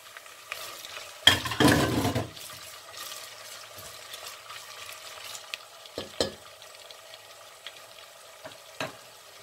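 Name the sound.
onions frying in a pan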